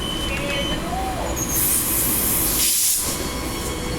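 The last train pulls out of Bayswater station with a loud, steady rumble and a burst of hissing air, close by, while voices talk faintly underneath.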